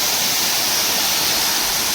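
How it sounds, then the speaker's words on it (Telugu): A steady, dense rush of falling water from the Isganda three waterfalls in forest on the Odisha border fills the whole stretch, broad and unbroken. "ఇస్ గండా త్రీ వాటర్ ఫాల్స్ అద్భుతంగా ఉంటుంది"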